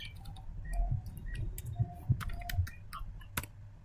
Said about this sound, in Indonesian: Kita bisa mengetik